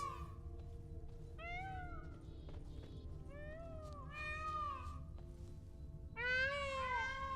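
Peacock calls from The Witcher 3 game, a series of loud harmonic wailing cries in several bursts over steady low background hum, the last burst the loudest.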